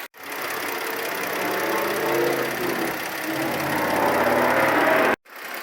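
A car engine idles steadily during an HHO hydrogen carbon clean, with hydrogen fed through the air intake. The hum is loud and even with a light ticking rhythm, cut off briefly near the start and again just before the end.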